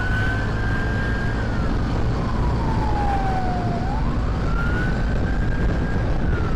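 An ambulance siren wails in evening city traffic, a single rising and falling tone sweeping slowly over steady road noise and engine rumble, moderately distant, with no talk.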